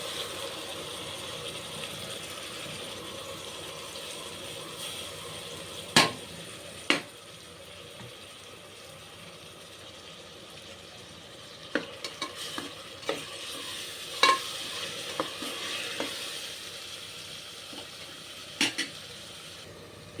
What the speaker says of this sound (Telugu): ఇప్పుడైతే మసాలా వేగిపోయింది